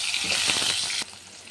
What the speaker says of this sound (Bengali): জিরা ভাজা হয়ে গেছে, এই আলু ভেজে নেব।